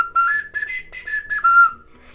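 A small Khludnevo-style clay whistle gives a series of short, shrill, breathy toots close by, with slight wavering pitch.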